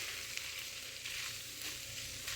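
Spiced goat liver (kaleji) fries on a hot tawa with a steady, close sizzle and crackle that holds evenly throughout, with no voices.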